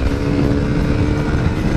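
A new 400cc motorcycle ridden fast down an open road, its engine a steady, loud drone of dense low rumble mixed with wind rush, running continuously throughout with no voices.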